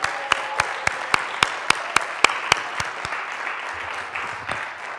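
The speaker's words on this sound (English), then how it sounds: "I want to give them a round of applause for the time" A small group of young people at a mock city council meeting claps, steady sharp hand claps in a quick even rhythm for about five seconds, close and fairly loud, with no talking.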